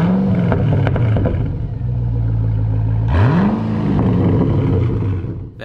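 A rare car's engine revs: a steady droning idle rises, drops back, then swells in a second sharp climb to a strong, close roar before cutting off.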